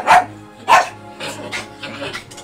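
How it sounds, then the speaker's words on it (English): A dog barks and yips indoors, two sharp loud barks followed by softer whining yelps, fairly close to the microphone. "Sorry about the dog in the background."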